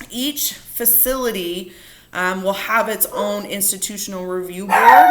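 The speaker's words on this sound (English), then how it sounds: "Excuse my dogs here." Pet dogs bark and yip in a home during a pharmacy lecture, short yaps scattered through steady speech.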